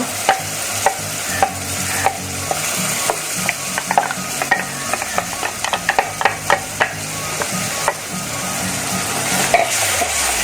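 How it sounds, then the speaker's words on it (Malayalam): Ground masala paste hits hot oil and turmeric in a pan for an easy fish curry, producing a steady sizzle with repeated stirring taps and scrapes throughout; no one speaks. "മൂത്തതിലേക്ക് നമ്മൾ ഈ അരപ്പ് അരച്ച് വെച്ചത് ഒഴിച്ചു കൊടുക്കുക."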